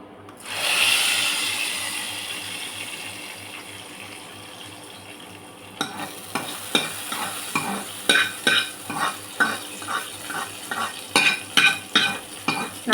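Garlic tempering in hot oil is poured into a pot of kootu, setting off a loud burst of sizzling that fades, followed by a series of rhythmic stirring and scraping strokes against the vessel.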